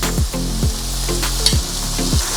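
A beaten egg sizzles in two tablespoons of hot oil for egg fried rice, giving a loud, steady frying hiss with a few soft knocks from the pan.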